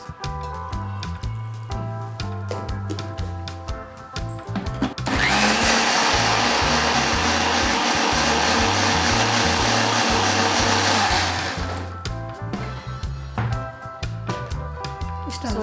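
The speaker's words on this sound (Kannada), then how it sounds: "ಸೊ ಇದಿಷ್ಟು ರುಬ್ಬಕ್ಕೆ. ಓಕೆ, ಈ ರುಬ್ಕೊಳ್ಳೋಣ." A mixer grinder whirs loudly for about six seconds as it grinds fresh coriander and mint leaves with water, a steady dense roar starting and stopping abruptly between quieter kitchen sounds.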